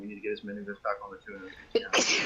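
A person sneezes loudly and close right after someone finishes speaking, a sharp sudden burst ending the stretch of talk.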